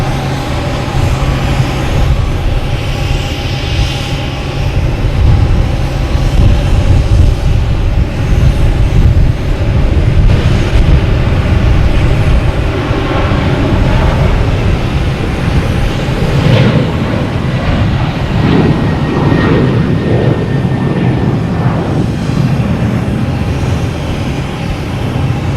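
WestJet airliner taking off from Boston Logan Airport: a loud, sustained jet roar with deep low rumble and shifting tones, building and swelling across a long stretch with no talk over it.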